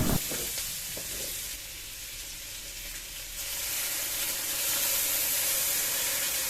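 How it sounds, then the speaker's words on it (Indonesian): Ginger, shallots and garlic sautéing in a pan give a steady close sizzle and frying hiss that swells a little louder toward the end, with no talking. "Masukkan jahe, bawang merah, bawang putih, ini ditumis hingga mateng ataupun baunya wangi gitu."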